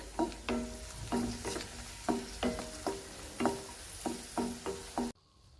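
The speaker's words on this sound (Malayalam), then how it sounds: "ഇത് മൂത്തിട്ടുണ്ട് ഇത് നമുക്കിത് വറുത്ത് കോരാം" Cashews and raisins fry in ghee as a spoon stirs them in a rhythmic series of about a dozen clinking, scraping strokes over a gentle sizzle, which ends abruptly.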